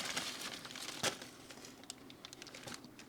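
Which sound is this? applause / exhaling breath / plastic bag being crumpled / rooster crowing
plastic bag being crumpled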